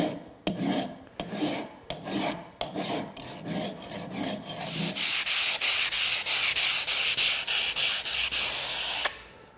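A fine-toothed file rasps over a wooden half hull model in steady back-and-forth strokes, close and loud, the strokes turning quicker and more even in the second half.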